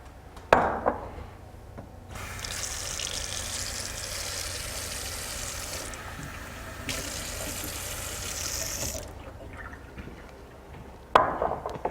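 Running water streams steadily into a measuring cup for a strawberry cake mix, a continuous close splashing pour lasting several seconds, with faint clatter at the start and end.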